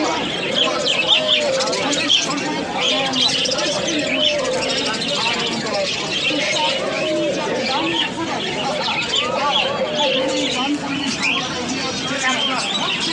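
Doves and pigeons coo and chirp steadily at a busy pigeon market, layered under a dense babble of crowd voices and nearby talk throughout.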